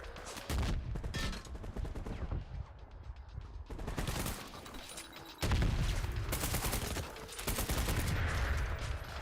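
Heavy, sustained gunfire from a favourite gun in the shooter Trepang2, dense overlapping shots and impacts in loud bursts with brief lulls, close and chaotic throughout.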